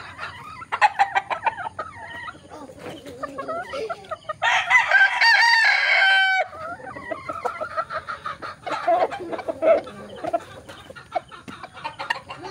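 A rooster crows once, loud and drawn out, near the middle, surrounded by clucking and chatter from other fowl.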